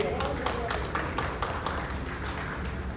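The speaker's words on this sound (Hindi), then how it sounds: "एक बार जोरदार तालियां होनी चाहिए।" Audience applause at an astrology and religion conference in Lucknow: steady, dense clapping from a crowd, with individual claps standing out in a continuous wash.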